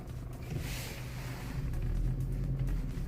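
Opel Astra J with an automatic gearbox fault shifted into drive, a low idling engine hum with a faint whoosh, then the rumble swelling slightly as it engages, close and without talk.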